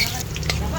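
Garlic fries in a little oil, making a steady close sizzle with faint stirring for a brief moment and no talk.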